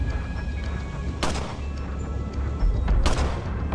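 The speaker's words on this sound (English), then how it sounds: "I am going to shoot out that spotlight before I jump over there. It's kind of hard to do with the pistol." Two sharp pistol shots fired at a spotlight on the island in Resident Evil 4, each a loud crack over a steady ambient rumble, spaced about two seconds apart.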